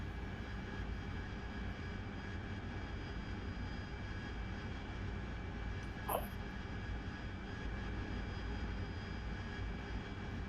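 Harrier jet engine during night flight refuelling, heard as a steady, distant broadband roar with a constant hum and one brief higher chirp midway, no talk.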